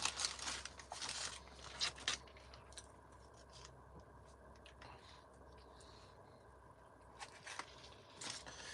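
A crunchy snack being eaten at a Los Angeles Taco Bell: faint, quiet crinkles and crunchy bites, bunched at the start and again near the end, with a hushed pause between.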